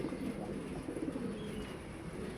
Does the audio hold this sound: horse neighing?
no